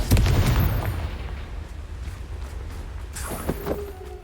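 A Confringo spell explodes in Hogwarts Legacy with a loud opening boom that rumbles and fades over a couple of seconds, followed by smaller crackling bursts near the end.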